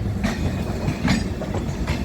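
A southbound Ernakulam–Kasaragod–Nizamuddin express rolls past on the track, with a steady rumble and rhythmic wheel clacks repeating about every 0.8 seconds. The sound is loud and close, with no voices.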